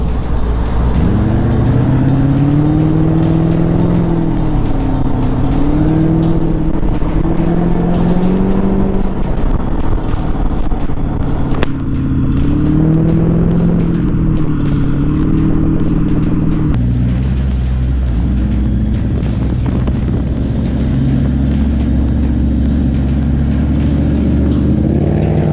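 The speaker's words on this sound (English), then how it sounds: "Spirited riding, and this is not even funny because the Rocket is supposed to be the largest capacity production motorcycle" A Triumph Rocket 3 motorcycle, a very large-capacity production bike, roars steadily during spirited riding, its engine drone loud and close with rising and falling pitch throughout.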